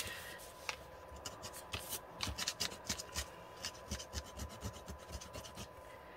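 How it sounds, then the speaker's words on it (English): Sharp scissors scraping lightly across journal paper to scratch it, a run of quick, dry rasping strokes in an irregular rhythm, close and fairly quiet. "These are very sharp scissors. So I don't need to put a ton of pressure."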